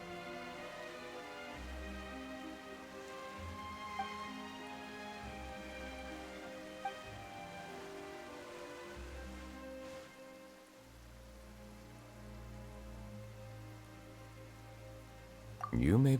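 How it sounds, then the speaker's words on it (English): Steady video game rain patters softly throughout, a faint continuous hiss beneath low musical tones. "Why is it raining all of a sudden?"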